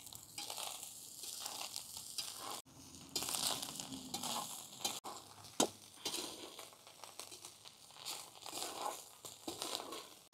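Singaporean fried rice with green chili sauce being stirred and tossed in a hot pan, giving a close sizzle with repeated scraping and rustling strokes and a few sharp knocks of the utensil.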